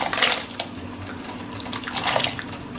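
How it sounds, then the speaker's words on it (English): Sliced yacon tubers are dropped into a pot of boiling water for blanching, producing two bursts of splashing over a steady bubbling churn, close and fairly loud. "Now water's come to the boil."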